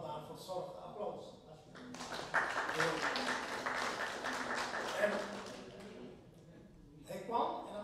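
A Dutch audience at a live-streamed gathering breaks into applause; a burst of clapping swells between stretches of speech, peaking mid-clip before fading as talking resumes.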